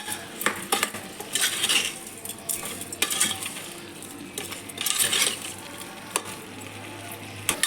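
Vegetables are mixed with salt in a pan for vegetable sambar. A metal spoon scrapes and clinks repeatedly against the pan, close and irregular, over light frying sizzle, with no speech.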